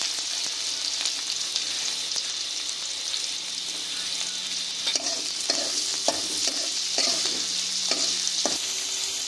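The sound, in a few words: onion, chilli and garlic being stir-fried in a wok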